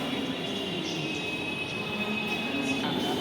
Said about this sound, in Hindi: हमारी मेट्रो ट्रेन एक ट्रेन आ गई।